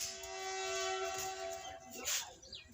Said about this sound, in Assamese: মানে ট্ৰেইন আহিছে।